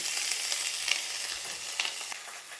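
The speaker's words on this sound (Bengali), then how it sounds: "তেজপাতা ফোড়নটা হয়ে গেছে এবার নারকলটা দেব নারকলটা দিয়ে এবার ঘষে রাখা আদা সেটা দিয়ে দিচ্ছি" Grated coconut and ginger fry in hot oil with bay leaf and dried chilli, giving a steady close sizzle with light stirring and no voices.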